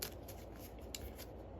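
A deck of tarot cards is shuffled in a soft, steady, papery riffle that stays faint and close throughout, with no talking.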